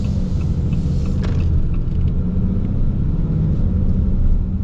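Ram HD 3500 heavy-duty truck with a Cummins diesel engine driving, a steady, loud low rumble of engine and road noise throughout, with no talking.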